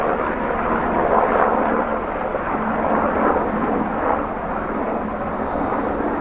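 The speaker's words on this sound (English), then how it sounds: "The helicopter." A military helicopter passes overhead as a broad, rumbling roar that stays fairly loud and steady throughout, with no voices over it.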